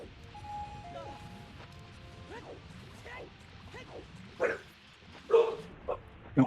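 A dog barks in the background of a live tournament broadcast, a few sharp barks near the end standing out over quieter chatter and game sounds.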